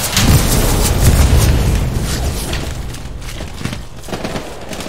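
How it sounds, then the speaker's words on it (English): Gunfire in the World War II shooter Hell Let Loose during a squad advance: heavy booming bursts and rumbling volleys, loudest at first and then thinning into scattered, more distant shots. "they're shooting at us"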